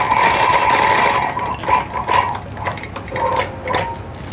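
Longarm quilting machine stitching in the ditch along a ruler, a close mechanical whirring hum with irregular pulsing stitches that varies in speed and rhythm, without talk.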